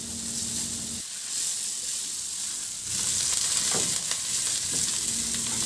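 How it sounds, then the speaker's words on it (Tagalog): Garlic and onion sautéing in a pan, a constant loud sizzle with brief stirring scrapes and a surge as more ingredients hit the hot oil. "at igisa ko na rin yung bawang. Ilagay ko na rin yung sibuyas."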